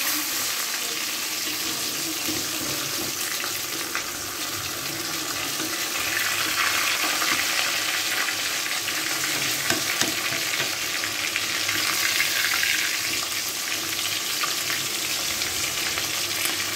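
Fish sizzles steadily in a hot frying pan, a dense continuous crackle that holds across the whole stretch with occasional stirring, close and fairly loud, with no talking.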